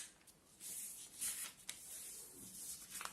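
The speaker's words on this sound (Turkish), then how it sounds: "Bunu da ikiye katlıyoruz." Sheets of paper are folded in half for a handmade Father's Day gift, making soft, close rustling and creasing sounds that swell and fade over a few seconds.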